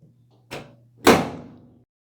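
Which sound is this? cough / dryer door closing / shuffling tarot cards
dryer door closing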